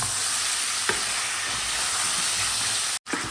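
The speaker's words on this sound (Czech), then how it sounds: "ten protlak nechám zase zarestovat, pěkně s tím cibulí a s tím masem" Tomato paste frying with onion and meat for pork perkelt, a dense steady sizzle and hiss close by with a couple of soft stirring scrapes and a brief cut near the end.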